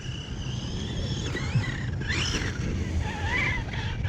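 Redcat Kaiju RC truck tearing around outdoors and popping onto two wheels, its high-pitched electric motor whining and sweeping up and down over rough crunching ground noise, fairly close and continuous.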